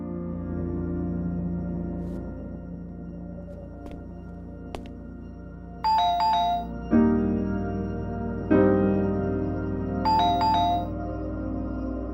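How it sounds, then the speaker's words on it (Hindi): A phone rings with a tonal melodic ringtone, repeating bursts of bright electronic notes at moderate volume over a low background hum, with no one speaking. "बॉस का फोन आ रहा है।"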